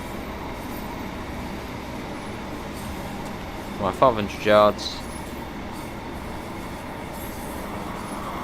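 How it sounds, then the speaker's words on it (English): A London Underground tube train arriving in the Train Sim World 2 video game rumbles steadily, with brief rising metallic wheel squeals in the middle and someone speaking briefly over it. "here in a tube train coming in"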